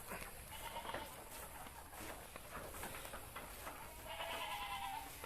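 Goats bleat now and then on a goat farm in Yasothon during the morning, calls coming at mid distance over steady outdoor background noise, with no talking.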